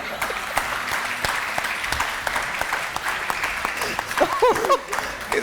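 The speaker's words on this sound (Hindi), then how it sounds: "किसी ने बहुत दिल से ताली बजाई इस बात पे" An audience at a Ramazan talk show claps in a steady, moderate round of applause, with brief voices and a short laugh rising over the clapping near the end.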